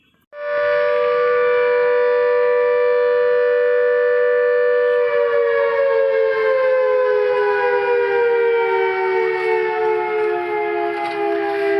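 A factory siren, heard from aboard the Antyodaya Express train near Raxaul, begins abruptly and wails loud and steady for over ten seconds, its tone dropping slightly in pitch midway, over faint background rumble.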